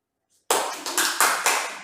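Schoolchildren clapping their hands in a primary classroom, a sudden burst of several quick, ragged group claps that start together and keep pulsing close by.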